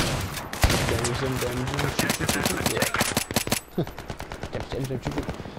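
Rapid gunfire bursts from shotguns and SMGs in the video game Battlefield 3, with loud, dense volleys of automatic fire and sharp single blasts throughout, mixed with game effects and faint talk.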